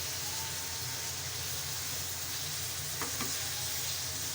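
Keema, minced meat, frying in oil in a karahi while a spoon stirs it steadily, giving a continuous close sizzle with a few soft scrapes near the end.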